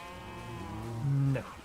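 A cow in the video game UniversIO gives a short, low, close moo that swells and then cuts off.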